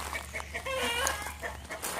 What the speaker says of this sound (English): You hear the chickens over there and the roosters just doing their thing.